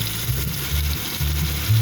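Garlic ginger paste sizzling in hot oil in a pan with fenugreek seeds and mustard seeds, a close, steady frying crackle with low bubbling pulses underneath.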